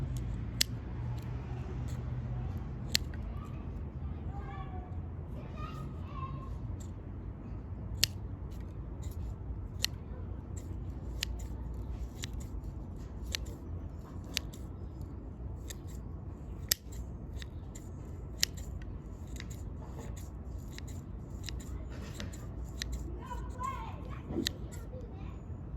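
Pruning scissors cutting the roots of a silky dogwood during repotting: sharp, close snips, some single and some in quick pairs, scattered irregularly over a quiet room background, with children's voices faint in the distance.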